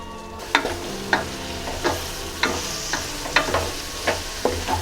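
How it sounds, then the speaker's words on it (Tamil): Ginger garlic paste sizzles in a pan for veg pulao while a spoon scrapes through it in regular strokes, roughly one every half second, the hiss steady under the clacks and no talking. "நல்லா கிளறி விட்டுக்கோங்க"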